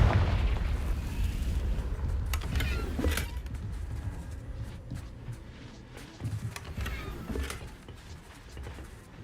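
Confringo spell blasts in the Hogwarts Legacy video game, a few booming explosive bursts with rumbling decay, moderately loud against a quieter background.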